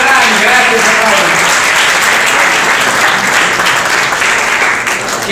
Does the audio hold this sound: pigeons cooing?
no